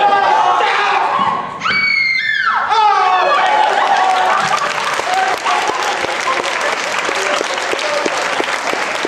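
A theatre audience at a stage performance of The Complete Works of William Shakespeare Abridged bursts into loud, sustained applause, dense clapping filling the room with a few shouts and cries mixed in near the start.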